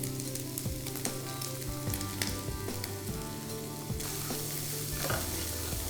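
Meat sizzling and frying in olive oil in a pan over medium-high heat, a steady loud crackle with repeated stirring scrapes and clinks throughout.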